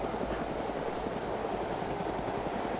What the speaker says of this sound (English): Captain, we got another helicopter.